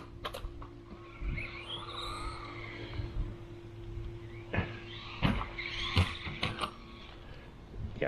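A brushed mini RC car drives with a faint, whiny electric motor rising and falling in short bursts, mixed with scattered clicks and knocks from the small chassis.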